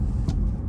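Dodge Hellcat engine whine while driving in afternoon traffic, a steady close rumble of the car with a brief, faint high whine rising over it.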